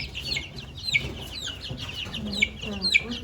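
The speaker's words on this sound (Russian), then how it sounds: "Вот моя голошеечка, любимая моя птичка голошейка." Naked-neck and crested hens cluck and chatter together in a farmyard coop in cold weather, several birds close by giving repeated short clucks and occasional higher calls over a low background.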